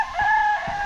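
Close rooster crowing in a yard full of chickens, one loud, bright sustained call lasting about a second.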